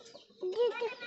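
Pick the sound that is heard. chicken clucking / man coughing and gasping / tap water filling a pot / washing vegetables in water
chicken clucking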